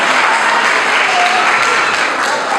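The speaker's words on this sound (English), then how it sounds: "Let's give them a huge round of applause" A graduation ceremony crowd at Cornerstone Christian High School gives the class of 2026 a big, steady round of applause, dense and loud throughout.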